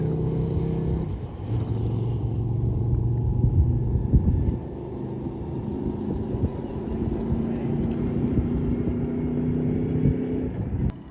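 A big twin-turbo V8 engine rumbles steadily at Bonneville, sustained low and close with a few shifts in pitch and no talking over it.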